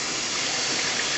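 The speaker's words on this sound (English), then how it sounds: "take my sprayer. And I'm going to go ahead and spray it" A kitchen sink sprayer blasts a steady, dense hiss of water onto a strainer, close and unbroken for a moment.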